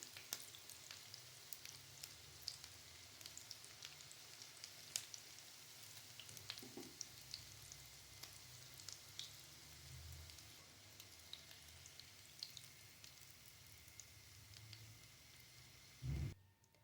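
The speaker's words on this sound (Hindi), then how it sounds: "बहुत ज़्यादा टाइम के लिए हमने इन्हें फ्राई नहीं करना, बस 1 से 2 मिनट लगेगा और कबाब हमारे फ्राई हो जाएंगे" Chinese-style veg kebabs fry in hot oil, a steady soft sizzle with fine crackling pops running continuously and fairly faint throughout, with a brief clatter near the end and no talk.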